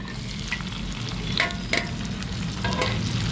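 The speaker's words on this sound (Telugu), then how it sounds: "నూనె కాగిందండి పచ్చిమిరకాయలు ఉల్లిగడ్డ ఎల్లిపాయలు పసుపు కొంచెం ఇంగువ అండి" Green chillies, onion and garlic with turmeric and asafoetida sizzle loudly in hot oil, close up, with steady crackle and a few brief stirring scrapes for spinach dal.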